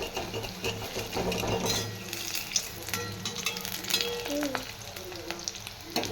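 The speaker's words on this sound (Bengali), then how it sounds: "বড়া ভাজা হচ্ছে।" Besan-battered pakoras bubble and fizz in a pan of hot oil, a close, busy sizzle with occasional scraping and light clatter, and no one speaking.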